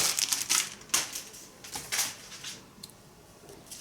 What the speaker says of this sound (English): In fact, Tim, let me take them all out just so I don't have to sit here with a plastic bag